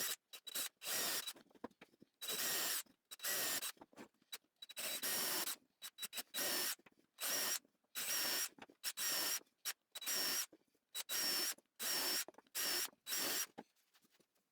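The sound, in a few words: drill pre-drilling and screwing wooden bench pieces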